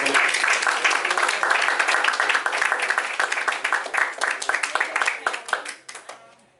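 A round of applause as Sister Shirley is brought up to speak: many people clapping briskly, loud and busy at first, then thinning out and fading away near the end.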